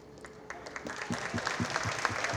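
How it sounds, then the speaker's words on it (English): Applause for foundation staff at a presidential awards dinner. The clapping starts thin and quickly swells into a steady, moderately loud patter from the crowd. "Round of applause for them."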